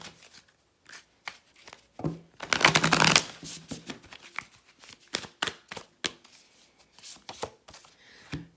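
An oracle card deck being shuffled close up: quiet, irregular flicks and taps of cards, with one longer riffle in the middle, and no talking.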